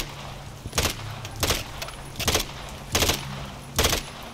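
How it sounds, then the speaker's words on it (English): Gunfire from Modern Warfare III campaign play comes in five evenly spaced short bursts over a constant low background hum. "Who are you shooting at?"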